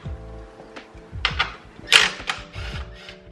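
Metal clicks and ratcheting clatter from a 10 mm wrench loosening grille bolts on a Ram 1500 RT Hemi truck, close and irregular, with a few sharper bursts.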